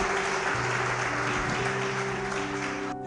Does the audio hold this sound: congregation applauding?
yes